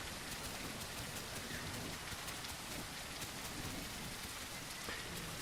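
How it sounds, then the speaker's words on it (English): Heavy rain in the video game The Isle, a loud, constant hiss of downpour drumming on surfaces throughout, with no talk. "The heavy rain is so beautiful. It is. It's really loud"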